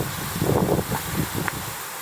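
Gusty wind blowing outdoors in an apple orchard, buffeting the microphone with uneven rushing bursts and rustle, fairly loud and continuous for the whole short stretch.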